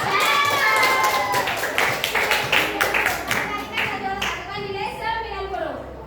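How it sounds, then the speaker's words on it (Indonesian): Children in a classroom clap together in a quick rhythmic burst, loud and close, with young voices calling out over the claps before the noise trails off. "tepuk tangan dulu ya"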